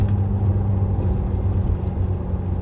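The engine of a 1994 Nissan Pulsar GTI-R drones and whirs at moderate revs while the throttle is feathered. The sound is a steady, close, fairly loud hum with slight surges and no sharp bursts.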